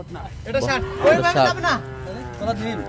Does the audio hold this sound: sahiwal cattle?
yes